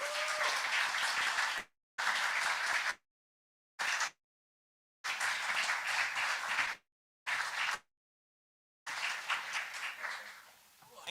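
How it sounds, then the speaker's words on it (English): Audience applause following a talk at a live games-talk event in Dundee, dense clapping broken into bursts with abrupt silent gaps, then a fading final stretch. "Get another round of applause for that."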